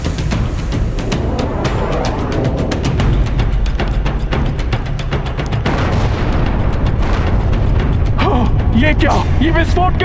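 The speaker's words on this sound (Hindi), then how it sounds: "ये क्या, ये विस्फोट कैसा?" A loud, rumbling blast with heavy booming and crackling debris fills the clip, dense and sustained like a dramatic explosion effect.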